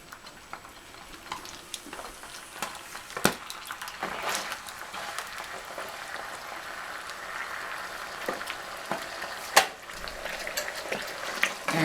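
Meat being stirred in a pan with sofrito and tomato sauce, soft scraping and sizzling throughout, broken by several sharp utensil knocks against the pan, close and moderately quiet with no talking.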